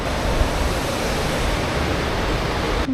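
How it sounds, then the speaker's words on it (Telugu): Kuntala Waterfalls roar as a dense, even rush of falling water, loud and unbroken for a few seconds with no voices. "Kuntala water falls."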